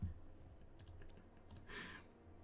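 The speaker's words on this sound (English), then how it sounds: "So I'm just typing cycle in for now." Quiet computer keyboard typing while entering a card search in a digital card game, a handful of soft, close key clicks spread unevenly, with one brief brighter rustle near the end.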